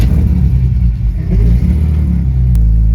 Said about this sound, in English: this is the first time my car is moving under its own weight since the beginning of March